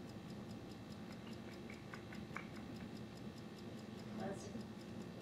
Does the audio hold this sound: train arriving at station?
no